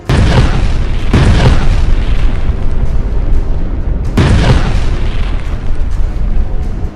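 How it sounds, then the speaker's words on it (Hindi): Israeli tank shells explode in the war zone of Jabalia: two very loud, deep booms, one at the start and one around the midpoint, each rumbling on at full strength until the next. "यहां इजरायल टैंक से गोले दाग रहा है।"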